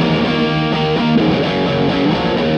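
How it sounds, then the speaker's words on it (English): Electric guitar played through a Blackstar Dept. 10 Dual Distortion amp-in-a-box pedal straight into a Fryette Power Station PS-100, giving a thick, sustained, heavily distorted tone with shifting chords, loud and continuous with no talk. "This is the Black Star Department 10 Dual Distortion."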